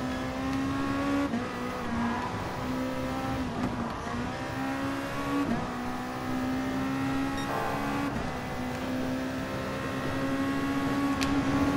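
A race car engine from a Japanese GT championship race in Gran Turismo Sport drones loudly and steadily, its pitch wavering with throttle and shifts while the car holds its line, with no talking.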